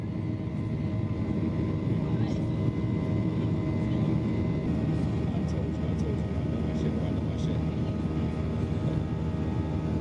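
A Ryanair airliner accelerates down a rain-soaked runway on takeoff, heard from inside the cabin as a loud, steady, low engine roar that holds unbroken throughout.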